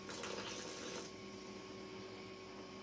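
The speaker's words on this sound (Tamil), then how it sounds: "கொஞ்சமா தண்ணி சேர்த்துக்கலாம்." Water trickles and splashes into a bowl of thick paniyaram batter for about a second, then a steady faint hum continues with no talk.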